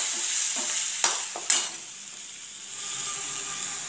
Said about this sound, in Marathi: बारीक गॅसवर सगळे शिजून घ्यायचंय, परतून घ्यायचंय तेलामध्ये